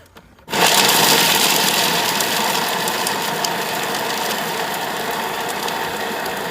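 A Thermomix TM7 blending fruit for sorbet with egg white at speed 5 roars up abruptly after a brief quiet moment, then holds a loud, steady, broadband whir with grinding texture.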